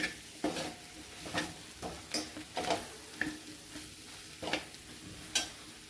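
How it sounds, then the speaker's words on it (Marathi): A spoon scrapes and stirs a mixed vegetable bhaji in a pan after sesame seeds go in, with about a dozen evenly spaced strokes over a soft sizzle, close and moderately loud, with no talking. "तीळ टाकल्यानंतर अशी छान मिक्स करून घ्यायची"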